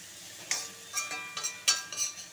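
Cut potatoes stirred in a hot pan with turmeric and garam masala, a soft sizzle broken by about five sharp scraping strokes of a utensil against the pan, close and fairly quiet.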